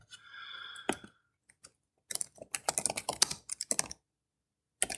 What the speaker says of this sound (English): I am typing good